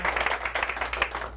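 An audience at a talk on Kapu Aloha breaks into continuous applause, a dense, steady wash of clapping hands under a low steady hum, with no voices standing out.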